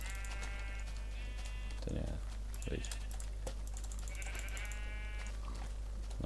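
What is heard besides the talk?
sheep bleating in video game Minecraft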